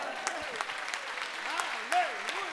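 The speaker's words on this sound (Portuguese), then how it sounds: "aplauda ao Senhor!" A church congregation applauds, the clapping sitting under a voice that rises and falls in pitch, fairly quiet throughout.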